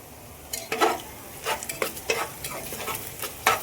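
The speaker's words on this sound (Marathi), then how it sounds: "कांदा लाल झाला." Onion frying in a pan, with a bright sizzle and repeated scraping strokes of a stirring spoon coming in short bursts, close and clear, no voices.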